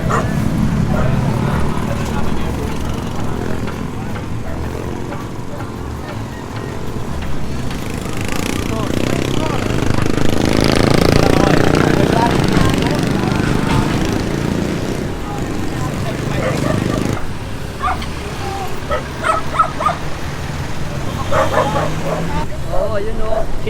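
A dog barks now and then amid busy outdoor noise near Lopez Bridge, with people talking, roadside coffee and noodle vendors, and an engine droning throughout.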